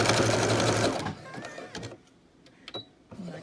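Sewing machine running a duvet seam and backing over it, a fast close whirring stitch for about a second, then fading into quieter mechanical clicks and fabric handling.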